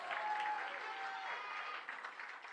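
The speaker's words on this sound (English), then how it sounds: "You can clap. It's all right. You can clap." Guests at a gathering clapping, a steady, fairly soft patter of applause from a small group, heard on its own throughout.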